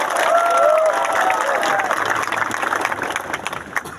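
A crowd at an outdoor political rally claps for itself, loud and steady, mixed with some cheering and a few scattered shouts, fading slightly toward the end.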